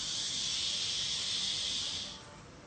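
Sustained breathy shush of an exhale, loud and even for about two seconds, then tapering away, with no voices.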